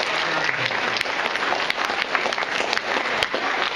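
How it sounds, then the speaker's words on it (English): A live audience applauds debaters at a debate event, a steady, dense wash of clapping that holds at even loudness throughout with no voices over it. "one more round of applause for them"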